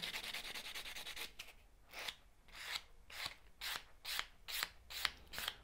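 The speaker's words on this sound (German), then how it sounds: "Dann ganz einfach mit einem Buffer nochmal komplett drüber gehen." Nail buffer rubbed over a gel nail surface to matte it, a quiet, close scratchy rasping at first continuous, then breaking into a series of short regular strokes.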